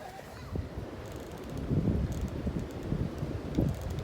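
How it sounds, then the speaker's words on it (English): Wind gusts through swaying trees along an Appalachian Trail boardwalk in West Virginia, a close, rushing roar with rustling leaves that rises and falls in surges. "The trees are really rocking back and forth with the wind blowing"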